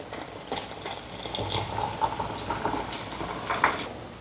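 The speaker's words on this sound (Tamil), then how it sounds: "சுடு தண்ணி அதை ஊற்றுவோம்" Hot boiled water is poured from a ladle into salted flour for string hoppers in a Jaffna kitchen, a soft close gurgling splash of liquid running steadily for several seconds without talk.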